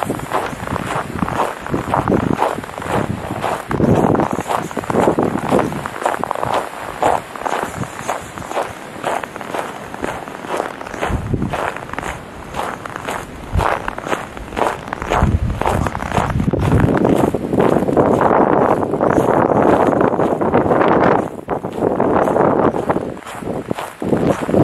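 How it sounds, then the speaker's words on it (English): Wind gusting across an outdoor yard in November, a loud, steady roar buffeting the microphone, swelling and easing over nearly half a minute, with some rustling and possible footsteps mixed in. "I'll let you listen to the wind for a little bit."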